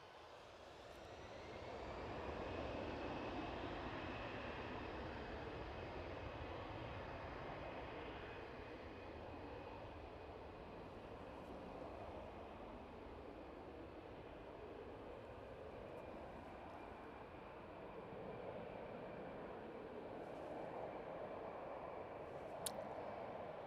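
An easyJet airliner taking off from Manchester Airport, bound for Catania, a broad jet roar that swells early and then holds steady and fairly distant for over twenty seconds, with no talk.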